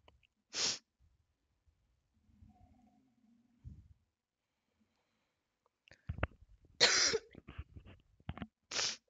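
Several separate coughs close by, a few sharp bursts spaced apart with quiet gaps, along with some breathing and throat sounds between them.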